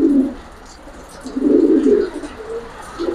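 Pigeons coo in a loft, giving several low rolling coos in uneven bursts, fairly close and loud, with no talk over them.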